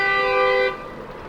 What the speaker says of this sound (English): I don't know what good people think honking will do in a traffic jam that is clearly unescapable.